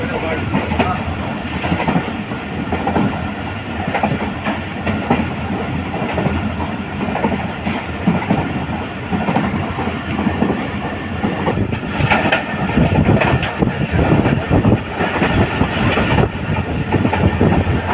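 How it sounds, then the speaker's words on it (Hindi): A passenger train pulls out of Samasatta railway station, its wheels beating a continuous rhythmic clatter over the rails, loud and close throughout, with a few sharper metallic accents. "समरसट्टा रेलवे स्टेशन से हमारी ट्रेन डिपार्चर होती हुई"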